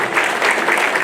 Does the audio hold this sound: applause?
yes